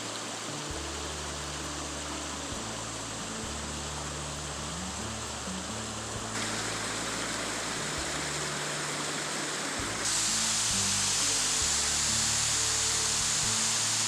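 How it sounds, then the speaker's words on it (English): Moores Cove Falls in Pisgah National Forest sends up a loud, unbroken rushing roar of falling water, close and constant throughout, growing slightly brighter toward the end. "More falls."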